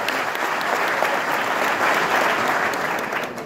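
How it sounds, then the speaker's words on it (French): Audience at a university speech ceremony giving steady, dense applause throughout, fairly loud and continuous with no voices standing out. "Encore des applaudissements pour lui."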